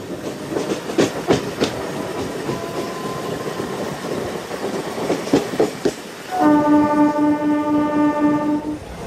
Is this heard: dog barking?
no